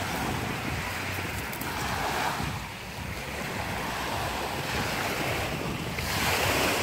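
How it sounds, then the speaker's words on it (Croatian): Sea waves break steadily on a summer beach shore, a continuous loud rushing surf with wind buffeting the microphone and no pause between swells. "valovi lipo idu"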